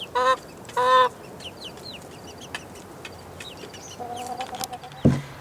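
Chickens in a backyard coop, a few loud close clucks and squawks at the start and again near the end, with soft chirping birds and faint murmurs in between.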